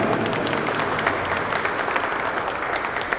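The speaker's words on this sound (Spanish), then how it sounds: "También le damos un fuerte aplauso y la más cordial bienvenida." An audience at a talk on personal data protection breaks into steady applause to welcome a speaker, a dense even wash of many clapping hands with no voices over it.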